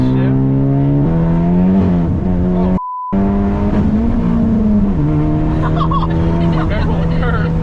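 A 2018 Honda Civic Type R FK8 with a catless straight pipe and E85 racing tune pulls hard in fifth gear. The engine drones loud and steady, rising in pitch and dropping at a shift, with people talking over it.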